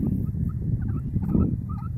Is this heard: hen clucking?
yes